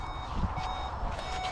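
Parking sensor in a Volkswagen Golf GTI Mk7.5 with manual gearbox, giving a steady run of rapid electronic beeps at close range and fairly loud.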